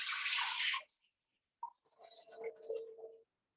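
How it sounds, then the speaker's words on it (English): Water pours into an Instant Pot in a home kitchen, a hissing splash for about a second followed by short trickles and gurgles, fairly close and alone without talk. "I'm just pouring the water."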